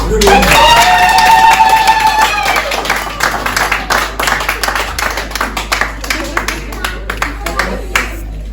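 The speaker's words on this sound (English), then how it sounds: "put 2 hands together again." Guests at a traditional Ijaw introduction ceremony cheer loudly at first, then settle into a steady, rhythmic clapping together, with lively voices mixed in over the claps.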